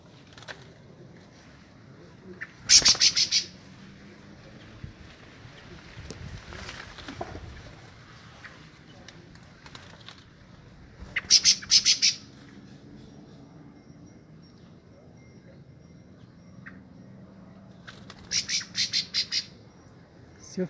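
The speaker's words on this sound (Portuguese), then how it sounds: "Seu filhote de sabiá laranjeira." Rufous-bellied thrush chicks in their nest give three short bursts of harsh, raspy squawking begging calls, spaced several seconds apart over a faint, quiet background.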